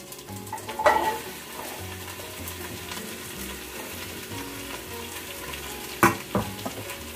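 Onion and carrots sauté in a pan for a vegetable soup, a steady close sizzle and hiss with two sharper stirring clatters of a utensil against the pan, and no speech.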